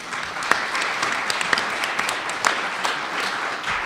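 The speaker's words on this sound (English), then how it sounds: "please just give yourselves a round of applause." An audience at a League of Women Voters event applauds itself, a continuous, even spread of many hands clapping with a few sharper claps standing out throughout.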